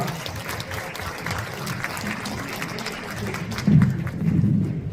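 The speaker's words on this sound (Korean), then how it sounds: "여러분 뜨거운 환영의 박수로 맞아주시기 바랍니다" An audience at a lawmaker's 2025 legislative report meeting gives a round of welcoming applause, a broad, moderately loud patter of clapping that swells slightly near the end.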